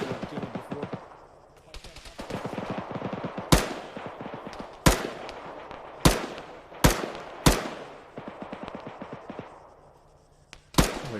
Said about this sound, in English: heard what sounded like a pretty big cannon again